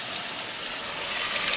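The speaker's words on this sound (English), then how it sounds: "So I take some water" Water poured or run steadily into a pot for scalding pigtail, a brief continuous rushing splash heard alone and fairly close.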